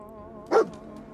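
A dog in the video game Fallout 4 gives a single short bark, close and sudden, over a soft steady background of game ambience and faint music.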